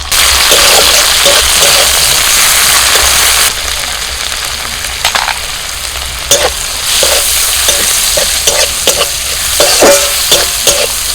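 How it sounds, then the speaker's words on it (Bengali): Spice paste with chopped tomato and split green chillies frying in a pan for a dal with water spinach, a loud continuous sizzle that drops and then swells again, broken by spatula scrapes and stirring. "মশলাটা ভাজা হয়ে গেছে"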